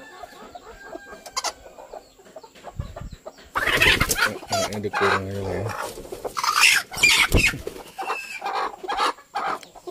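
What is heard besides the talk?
chickens clucking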